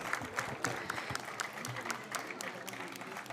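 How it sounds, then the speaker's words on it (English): A small crowd claps steadily for a few seconds, the applause even and continuous, fairly close. "give him a huge round of applause"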